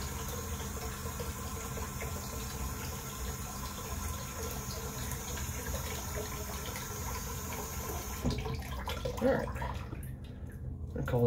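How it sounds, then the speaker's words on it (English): Steady running water from a tap during rinsing after a vacation shave, a constant close wash of flow that thins out near the end. "All right, rinse real quick."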